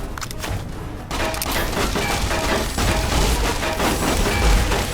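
The Sonic Emitter from Fallout: New Vegas fires as a dense, steady barrage of booming, crashing blasts with faint tonal whines running through them, growing slightly louder after the first second.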